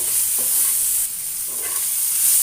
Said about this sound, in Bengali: দেখুন মোটামুটি করে ভাজা হয়ে গেছে পেঁয়াজ রসুন